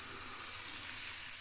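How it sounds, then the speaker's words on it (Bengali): Bora fritters frying in a pan over lowered heat make a soft, even, high-pitched sizzle that holds steady throughout, faint and unaccompanied by talk. "এগুলো আমি এইভাবে দিয়ে ভেজে নেবো, এই আঁচ কমিয়ে দিয়েছি"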